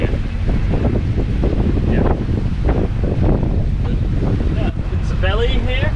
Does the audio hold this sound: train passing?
no